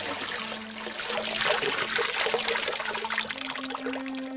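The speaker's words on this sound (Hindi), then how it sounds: "तब गीता उदास मन से मटके में पानी भरती है" Water trickles and splashes steadily into a clay pot at a village water source, a continuous close pouring sound with no voices, in an animated Hindi moral story.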